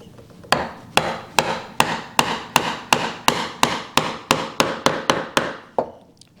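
Mallet blows on a chisel chopping a wooden mortise by hand for a table apron's mortise and tenon joint, about fourteen sharp, evenly spaced knocks, close and loud, with no talking.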